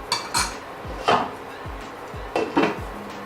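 Metal lid clattering onto a cooking pot while butter beans white kurma cooks, a few sharp clanks and rattles close by, with no talk.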